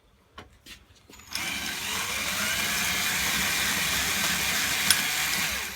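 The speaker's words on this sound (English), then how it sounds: "I got a 1/4-inch drill bit, and I'm just going to drill this out" A rivet being drilled out with a 1/4-inch bit in a crutch: a few clicks and knocks, then a close, steady whine of a power drill running continuously for several seconds.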